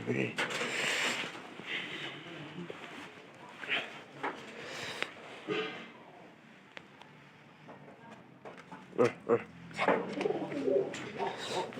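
A pigeon coos softly in low, throaty bursts, close but faint, interspersed with rustling and handling noises and a few sharper knocks in a quiet room.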